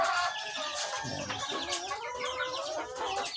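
Chickens kept as layers cluck and chatter close by in a steady run of overlapping calls, with a brief low voice near the start.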